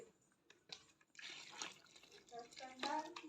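Water splashing and pouring into wall putty powder in a container as it is mixed by hand at home: faint, intermittent liquid trickles and splashes, with soft background voices.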